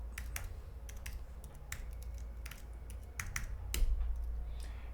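Fingers tap out a password on a computer keyboard at a test-system login, giving a run of crisp, irregular clicks and key presses over a low steady hum, close and moderately quiet, with no talking.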